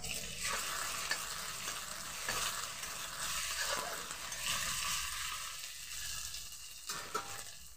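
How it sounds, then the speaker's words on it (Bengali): Onions frying with ginger-garlic paste in a pan, a steady broadband sizzle with intermittent scraping stirs of a spoon against the pan, moderately loud and close throughout, with no talking. "পেঁয়াজটা সুন্দরভাবে ভাজা হয়ে গেছে। এর মধ্যে দিয়ে দেবো আদা রসুনের পেস্ট"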